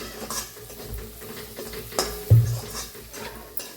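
Spoonfuls of chutney spice powder being roasted in a pan for a rustic cluster-bean (gavar) vegetable dish, heard as soft scraping stir strokes with light clinks of a spoon against metal and a faint sizzle, close and unhurried, no talking.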